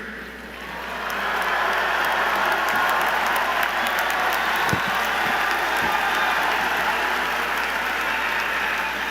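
At the Georgia Tech spring commencement, a large crowd of Master of Science graduates applauds and cheers. The sound is a dense, sustained roar of clapping that swells in the first second and then holds steady throughout.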